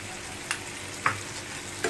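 Momo chutney with vinegar and soy sauce frying in a pan, giving a low, steady sizzle broken by three soft stirring scrapes spaced through the moment, with no voices.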